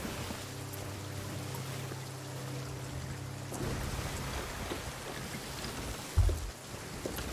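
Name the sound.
rain in a video game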